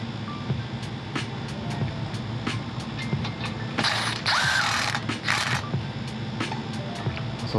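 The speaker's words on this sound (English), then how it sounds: "Finish it off with the gun." An air impact gun tightens the steering knuckle bolts on a Lexus LS430. A short, loud rattling burst rises over the workshop background, which has rapid ticking mechanical sounds around it.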